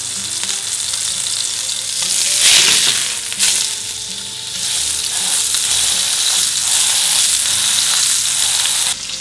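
A Jamaican jerk burger frying in a pan gives a loud, steady, close sizzle with bright hissing spitting throughout, swelling briefly as it settles, with no voices over it.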